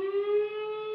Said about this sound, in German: Ja, Sirene geht.